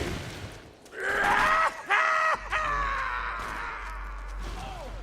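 Enemies screaming in the Krieg video game, drawn-out strained cries and groans with overlapping voices, moderately loud over a low rumbling background.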